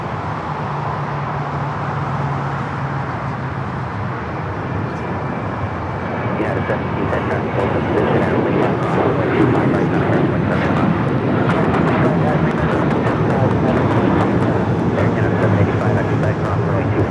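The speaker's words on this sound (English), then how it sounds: "This is Alaska Airlines 1323 taking off to Cancun on the 737-900ER." An Alaska Airlines Boeing 737-900ER takes off from LAX bound for Cancun, its jet engines a steady, loud broadband roar that swells midway and holds, with people talking over it.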